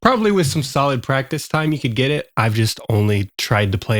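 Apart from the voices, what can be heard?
No distinct noise like a dog, phone or traffic.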